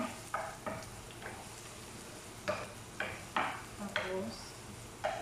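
Onions stirred in a hot pan give soft sizzling under scattered spoon scrapes and clinks against the metal, a quiet series of separate taps and shuffles spread over a few seconds.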